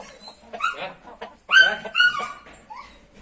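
An eight-month-old dog gives several sharp, yelping barks and whimpers in quick bursts, fairly close, with some faint background noise between them, near a rooster and hens.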